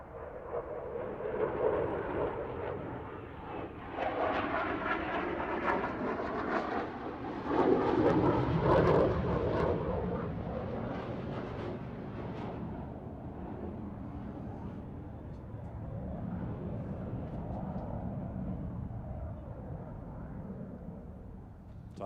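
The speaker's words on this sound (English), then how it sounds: "Typhoon provides air forces with a highly capable, extremely agile aircraft." Eurofighter Typhoon jet flying at the Farnborough International Airshow, a loud, continuous broadband engine roar that swells and fades as it passes, with no talk over it.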